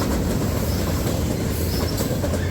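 A CSX freight train hauled by EMD SD70ACE locomotives rolls past close by, with a loud continuous rumble and the clatter of railcar wheels on the track.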